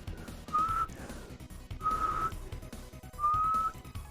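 Three short whistled notes at a steady pitch, spaced a second or so apart, fairly faint over a low background hum.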